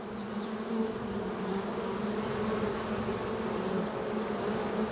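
A honey bee colony swarming in a hive in summer makes a dense, steady buzzing drone. The sound is loud and close and carries on unbroken throughout, with no voices.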